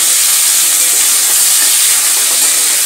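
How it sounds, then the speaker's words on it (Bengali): Prawns dropping into hot mustard oil in a pan, a loud, steady broadband hiss and sizzle that holds evenly throughout with no talking. "তেল গরম হয়ে গেছে, তেলের মধ্যে এবার মাছগুলোকে ছেড়ে দেব।"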